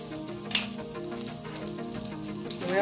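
Sausages (weenies) sizzle and crackle steadily in a frying pan while cooking for a pasta dish, a continuous close frying hiss with a brief louder pop near the start.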